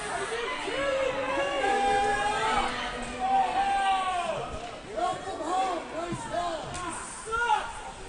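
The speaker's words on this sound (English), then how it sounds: "So the crowd's getting restless here as everybody wants a penalty called." Murmuring ice hockey crowd in a rink, restless and wanting a penalty called: steady babble with scattered shouts and calls rising and falling, a commentator's voice talking over it.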